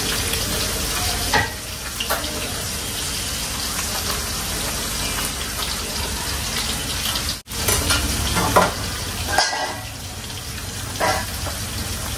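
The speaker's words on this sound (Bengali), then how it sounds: "শব্দ হবে বাগারের, ততই মনে হবে যে না ডালটা খুব টেস্টি" Spices for a dal tempering sizzle in hot oil with a loud, continuous crackling hiss up close, broken by brief stirring clatters and one short drop in sound midway.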